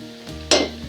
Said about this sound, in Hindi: ऑयल में मैं 2 अदद प्याज जो मैंने बारीक स्लाइसेस कर लिए वो मैं डाल दूँगी